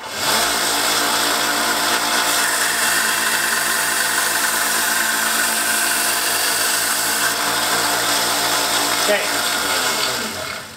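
A belt sander grinds steadily against a knife blade being sharpened, a loud continuous whir with a dense abrasive hiss, running without a break for about ten seconds before winding down at the end.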